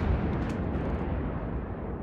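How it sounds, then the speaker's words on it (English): The battleship HMS Nelson fires all guns at once in World of Warships, a loud sustained roar of heavy naval artillery that rumbles continuously without any speech. "We're going to fire all guns."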